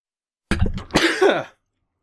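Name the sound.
sneeze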